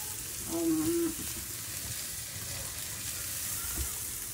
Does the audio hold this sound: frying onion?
yes